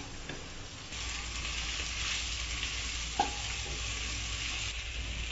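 Marinated chicken frying and being stirred in a pan for chilli chicken, a steady close sizzle with occasional scraping strokes and a small clink, no talking.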